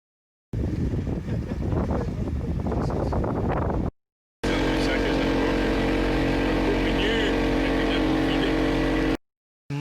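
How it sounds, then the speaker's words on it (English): A ferry on the crossing to the Cape Wrath peninsula motors back across the water with a steady engine drone and heavy wind buffeting the microphone. The sound comes in two continuous stretches broken by a brief silence. "ferry's just heading back for more people"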